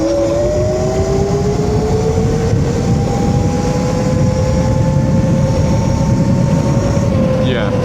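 Eskute RTX electric dirt bike accelerating hard, its motor whine rising steadily in pitch under heavy wind and road rumble, loud and close throughout.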